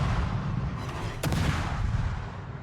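A deep, rumbling battleship gun barrage in World of Warships, a sustained low boom with a sharp crack near the middle, heavy and close, rolling under continuous background noise.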